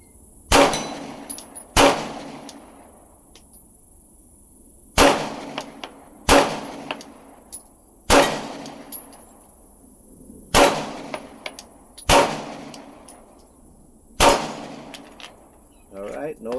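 A Glock 19X pistol with a failure-to-feed problem fires eight sharp, loud shots at uneven intervals, each crack followed by a short ringing tail, with brief quiet pauses between them.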